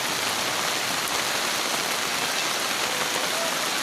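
Heavy rain pours steadily and loudly during a flood at a house, a dense unbroken hiss of drops hammering surfaces from start to finish, with no voices.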